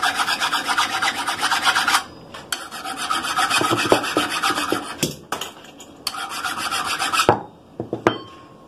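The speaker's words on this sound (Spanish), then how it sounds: "Con una lima se le hicieron unos borditos aquí al tubo, al eje. Entonces nada más lo vamos a limar así." Steel file rasping the edge of a steel go-kart axle tube, repeated rhythmic back-and-forth strokes, loud and close, with short pauses between bursts.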